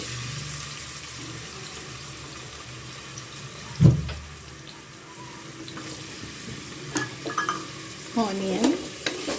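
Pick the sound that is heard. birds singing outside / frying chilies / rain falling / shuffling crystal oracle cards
frying chilies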